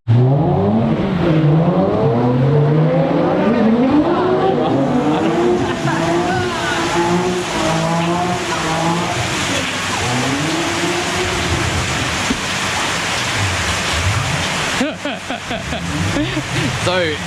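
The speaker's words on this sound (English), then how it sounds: "Engine starts and runs." An SR20-engined car roars and revs repeatedly, pitch rising and falling through the gears, loud and close, ending with a rough sputtering burst.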